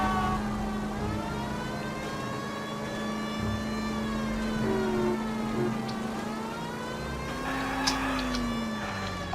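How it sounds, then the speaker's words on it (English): Police car siren in the video game L.A. Noire, a steady loud wail running continuously over the drone of the car's engine, with a brief shift in pitch near the end. "The siren is on, so he's not complaining."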